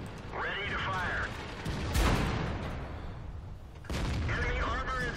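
In World of Tanks, a tank cannon goes off as a sharp boom near the middle and another near the end, set amid game sounds and brief voiced lines.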